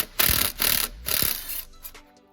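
A Torx T30 bolt on an Audi RS5 downpipe being loosened with a ratchet, giving a few close, loud bursts of metallic clicking separated by short pauses, then quieter fiddling.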